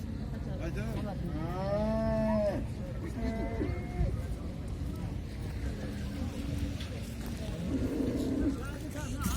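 Heifers about one and a half years old mooing at a busy livestock market, several drawn-out low calls in the first half over a steady murmur of crowd noise and voices.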